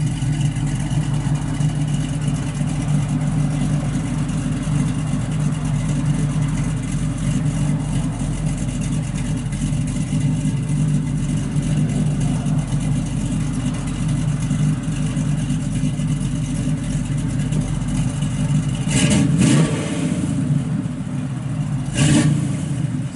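A 1967 Chevrolet Camaro RS/SS V8 with a full 2.5-inch exhaust idles with a deep, steady rumble throughout, with a couple of brief blips of revving near the end.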